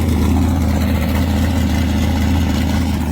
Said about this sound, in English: this is it running. Now you can hear what it sounds like with the new cam